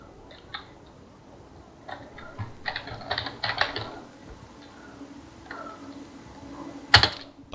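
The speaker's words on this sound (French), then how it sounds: "on entend fortement ton clavier" Quiet computer keyboard typing clatters in irregular bursts during Battlefield 3 play, with a sharper click near the end over faint background hum.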